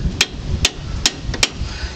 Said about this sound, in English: And I take a hammer and a good swack with it.